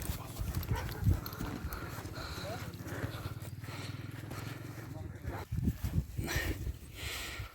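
Horse hooves clip-clop in a steady, quick rhythm on hard ground, with voices talking over them and a brief louder shuffle near the end.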